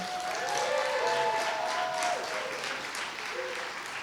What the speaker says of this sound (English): Another round of applause for Harvey Hine.